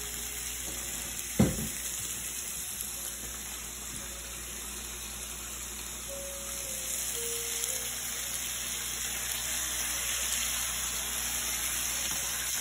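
Boneless chicken breast pan-searing with vegetables and Worcestershire sauce gives a steady, moderately loud sizzle and hiss, broken once early by a single sharp knock.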